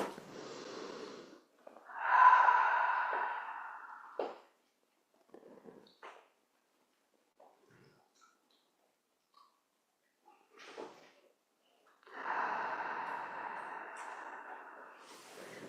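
Slow, deliberate breaths, each a long airy inhale or exhale lasting a couple of seconds, come close and soft, separated by long near-silent pauses with faint small movements.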